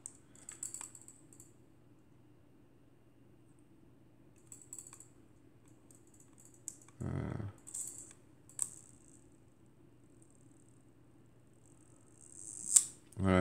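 Quiet mechanical clicks of a Beier Beira camera shutter being cocked and released, a few sharp isolated snaps spaced over low background hum, with one fuller whirring release near the middle and a crisp click at the end.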